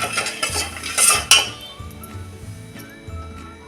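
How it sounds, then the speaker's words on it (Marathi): Sugar being stirred in a pan to dissolve it for syrup for rava laddoos, a spoon clinking and scraping against the metal pan in quick close strokes, louder at first, then lighter taps. "आता हे एकसारखं हलवून आपण हे साखर विरघळून घेऊया."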